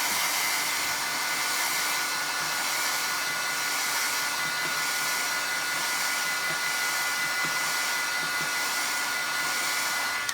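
A heat tool heat-sets paper glaze on a mixed media background, its fan blowing in a loud, steady, continuous whoosh close by for about ten seconds.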